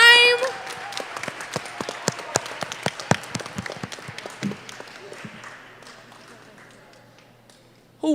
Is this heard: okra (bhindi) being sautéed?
no